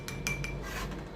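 Metal spoons clink against a container while scooping Nido powdered milk, a few quick light taps close by, followed by a softer scraping.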